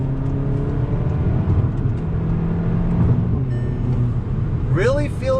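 VW Golf GTI Autobahn accelerating on throttle in second gear, a steady engine drone heard from inside the car with rising pitch, and a voice speaking briefly near the end.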